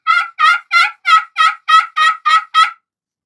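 A hand-played turkey call gives nine loud, evenly spaced yelps in a steady rhythm, each a short raspy note, followed by silence.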